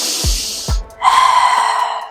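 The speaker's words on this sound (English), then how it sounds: "we're going to inhale deeply through our nose into our belly and exhale gently out of our mouth" Deep breathing demonstrated by a breathwork instructor: two sharp nasal inhales, then a longer, gentle breathy exhale through the mouth, close and alone without talk.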